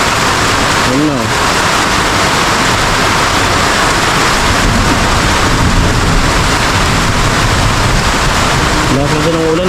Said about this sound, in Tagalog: Lakas din ng ulan, walang hinto oh.